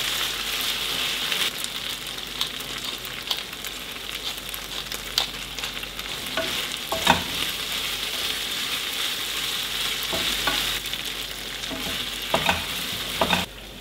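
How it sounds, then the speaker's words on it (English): Vegetables stir-frying with black pepper in a pan on high flame, a continuous sizzle broken by repeated scraping and clattering stirs of a utensil, fairly close and heard without talking. "I mixed everything together and sprinkled some black pepper on top and cooked everything on high flame"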